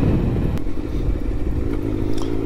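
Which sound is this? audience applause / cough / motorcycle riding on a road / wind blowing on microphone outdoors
motorcycle riding on a road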